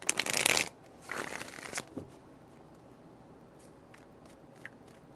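A deck of tarot cards being shuffled nearby, a loud riffle burst followed by a second softer shuffle and a few faint card taps trailing off into quiet.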